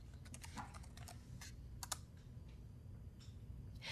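A command is typed on a computer keyboard, a quick irregular run of light key clicks, close and fairly faint, with no talk.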